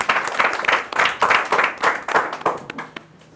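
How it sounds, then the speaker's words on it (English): An audience claps for Bebe Cool at a gathering, the sound arriving in rhythmic surges of many hands, then thinning and fading toward the end. "Can you clap for Bebe Cool?"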